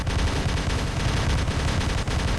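Rapid machine-gun fire from a heavy gun in the War Robots mech combat game, a dense continuous rattle of overlapping shots that stays loud and steady throughout.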